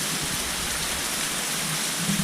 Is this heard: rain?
yes